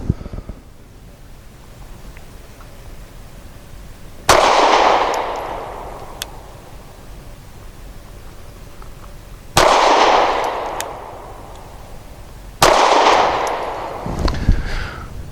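Sig P365 SAS pistol firing 115-grain rounds outdoors, three loud, sharp reports spaced several seconds apart, each trailing off into a long echoing decay, with light wind noise between shots.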